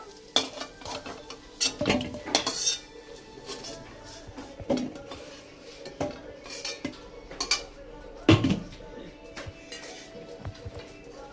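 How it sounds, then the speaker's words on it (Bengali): Potatoes frying in a pan with a light sizzle beneath repeated sharp clinks and scrapes of a metal utensil stirring against the pan, irregular and close. "ভাজা আলুটা আমি ভেজে নেব।"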